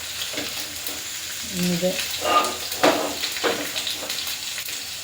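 Sardines fry in a pan with a steady background sizzle, while a spoon or spatula stirs and scrapes now and then, and a voice speaks briefly over the cooking.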